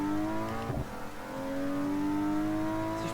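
A powerful car engine in BeamNG.drive revs and accelerates, its steady droning tone climbing gradually in pitch across the whole stretch, loud and close with a brief gear-change dip near the start and no talking.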